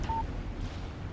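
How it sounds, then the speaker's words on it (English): Phone text message alert in the Alan Wake video game, a single short electronic beep right at the start, clear and close, followed by quiet low background ambience. "Text message from Barry."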